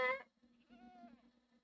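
Goats bleat inside the Minecraft video game, one loud wavering call up front followed by quieter drawn-out bleats with faint background game sound.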